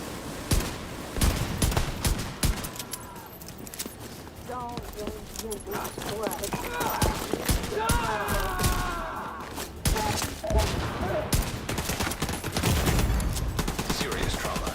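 Rapid gunfire in The Division 2 shooter game, repeated bursts of automatic shots and thuds layered over game sounds, with voices talking throughout.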